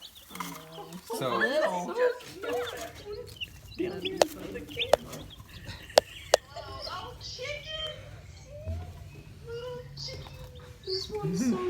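Young chickens peep and cluck close by in short bursts, with people chatting over and between the calls.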